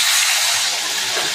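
Spices hit hot oil in a pan while Bengali fish curry (macher jhol) is being cooked, giving a loud, steady, bright sizzling hiss that continues without pause and without talking.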